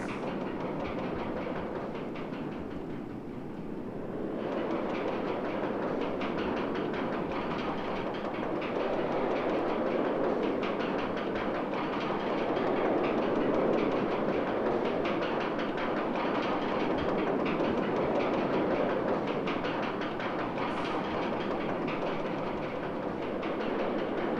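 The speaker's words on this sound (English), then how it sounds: "now that all three trains have screwed off" Trains run in the OpenRCT2 theme park game, a continuous rumbling roll with steady clickety-clack of wheels on track that swells slightly and holds for over twenty seconds.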